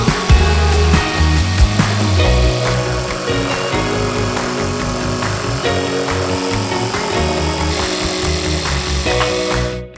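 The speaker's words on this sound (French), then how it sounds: "je le scie avec la scie sauteuse." A jigsaw cuts a notch in a wooden worktop panel for a garden potting table, a loud, steady buzzing saw running almost continuously at close range before it stops at the end.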